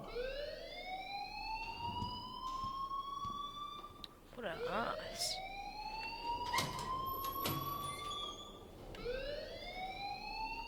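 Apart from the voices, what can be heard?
alarm ringing in Life is Strange video game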